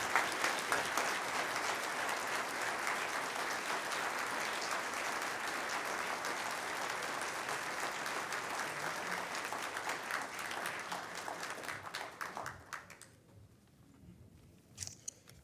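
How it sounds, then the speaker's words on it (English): An audience at an alumni awards ceremony claps steadily, dense applause that holds for about twelve seconds before thinning to a few scattered claps. "How about another round of applause for Dan, Lori, Jock, and Jim."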